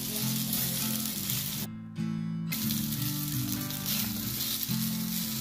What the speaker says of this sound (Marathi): त्यानंतर ते तयार झालेले सामग्री मी या तव्यांमध्ये टाकत आहे.